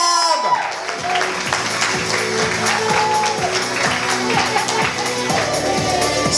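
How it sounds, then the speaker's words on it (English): Loud, steady applause from an audience at a talent competition semi-final, sustained for several seconds alongside music playing at the same time. "Give him a massive round of applause."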